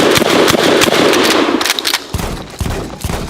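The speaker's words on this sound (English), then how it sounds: "I'm going to keep the trigger pulled down. I'm going to shoot at the barrel." Repeated loud blasts from an M97 trench shotgun fired at a barrel, several shots in quick succession with sharp reports and ringing decay between them.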